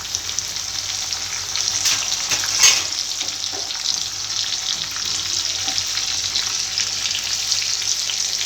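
Eggplants for an oil-rich eggplant curry fry in a pan of oil, making a loud, even, close crackling hiss with a brief clatter partway through and no voices.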